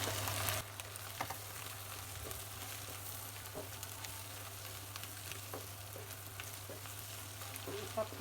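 Bitter gourd frying with egg and onion in a pan, a steady close sizzle with scattered crackles and light stirring taps throughout, no talking.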